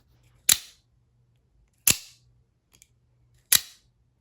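The blade of a Lightning Elite OTF knife fires out in three crisp, close snaps, each short and clean with little ringing after it, spaced about a second and a half apart in otherwise quiet surroundings.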